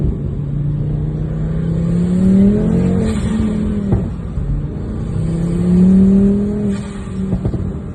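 A Volvo P2 all-wheel-drive car engine revs up and down in two long swells, its pitch climbing and falling, loud and close, with no talking.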